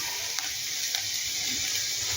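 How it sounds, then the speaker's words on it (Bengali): Soy, tomato and chili sauces sizzle steadily in a hot pan for a sweet corn snack, a close, continuous frying hiss with faint stirring taps and no voices. "এখানে soya sauce, tomato sauce, chilli sauce একবার তিনটে আমি ফ্রাই করে দিয়ে দিলাম।"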